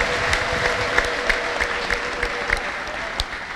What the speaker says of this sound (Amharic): እስቲ አጨብጭቡ ከዚህ በላይ ከፍ ያለ ጭብጨባ